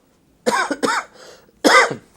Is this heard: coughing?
yes